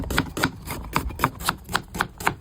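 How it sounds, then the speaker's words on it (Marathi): Onions are chopped with a knife for a mutton hojdi masala: about nine crisp, evenly spaced blade strikes on a cutting board, close and steady, with no talking. "आपण आता कांदे कट करून घेऊ"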